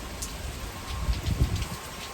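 Rain comes down in a short, steady wash of hissing patter at moderate volume, with no voices.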